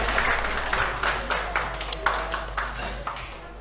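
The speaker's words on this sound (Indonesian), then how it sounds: "Tepuk tangan lagi dong, jangan nanggung." Scattered clapping rises from the audience at a pesantren leaders' association inauguration in Bekasi, uneven bursts of hands over a low steady hum, with some faint crowd noise.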